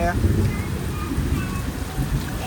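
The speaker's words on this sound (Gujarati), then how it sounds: "વરસાદ અને વીજળી બે અંદરાધાર શરૂ થઈ ગયેલો છે" Heavy rain pouring steadily during a thunderstorm with lightning, a dense continuous wash of noise with low rumbling, loud and close throughout; a voice may be faintly present beneath it.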